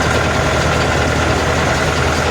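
A Scout 404C tractor engine runs steadily at about 1100 rpm while pulling a 400-liter Polish sprayer for herbicide work on a pumpkin field. It makes a loud, close, continuous mechanical drone with no pauses.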